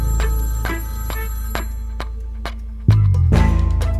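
An old telephone bell rings in an apartment at 4:30 in the morning in 1984 Milan. It repeats in steady, loud trills over a low hum, with a sharper clatter near the end.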